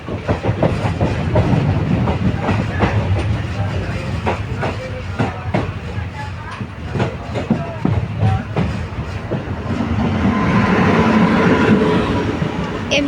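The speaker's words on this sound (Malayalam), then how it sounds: "അവിടെ നിന്നൊരു ട്രെയിൻ വരുന്നുണ്ട്" A Chennai Central–Thiruvananthapuram Central Mail train rolls past with a continuous rumbling roar and rhythmic clickety-clack of wheels over rail joints, loud and close throughout.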